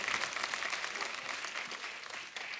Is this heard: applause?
yes